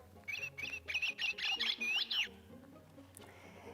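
A voice imitates a small bird in a children's finger story, making a quick run of high chirps and squeaks over about two seconds before fading into quiet.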